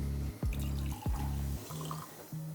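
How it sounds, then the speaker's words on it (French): Hot water poured out of a V60 coffee carafe, a steady near pour with short breaks and a couple of splashing restarts, ending in lighter trickles. "Videz l'eau chaude du contenant."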